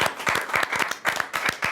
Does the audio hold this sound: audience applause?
yes